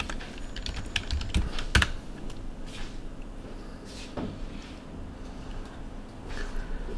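A username is typed on a computer keyboard in light, close clicking taps, with a couple of louder knocks near the start and no talking.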